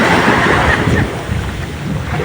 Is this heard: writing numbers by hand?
no